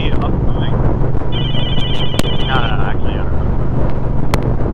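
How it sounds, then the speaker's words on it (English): A mobile phone rings with an incoming call while a rider sits on a 2021 Honda Rebel 1100 DCT, the electronic ring tones faint beneath heavy wind noise and engine rumble. "I'm having a phone call, but I'm not answering it."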